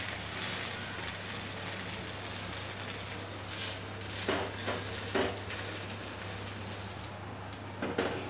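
Maize thalipith flatbread roasting crisp on a hot pan gives a steady, soft, rain-like sizzle over a low constant hum, with a few brief crackles along the way.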